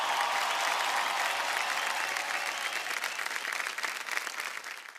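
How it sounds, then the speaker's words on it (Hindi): A large crowd at a stage show finale claps loudly and continuously, the applause holding strong before tapering slightly at the end. "जोरदार तालियां हो जाएं।"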